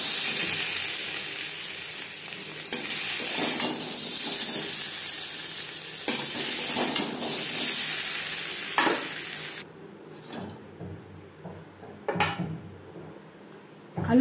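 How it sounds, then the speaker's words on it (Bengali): Potatoes with salt and turmeric fry in a pan, a close sizzle broken by several scraping stirs, then the frying drops away to near quiet, leaving occasional stirring clatter. "লবণ হলুদ দিয়ে 4-5 মিনিট আলু ভেজে নিয়েছি।"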